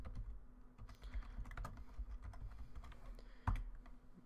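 Keys clatter on a computer keyboard in an irregular stream of quiet, close clicks while code is typed, with one louder keystroke near the end and a low steady hum underneath.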